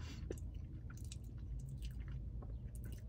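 Chewing a Crumbl Biscoff cookie up close, soft moist chewing and small bites against a steady low background hum.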